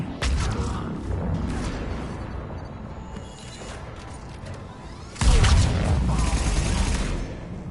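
Heavy booming blasts and rumbling fire roll on continuously, with a louder, denser burst of explosive impacts near the end, like game cannon fire.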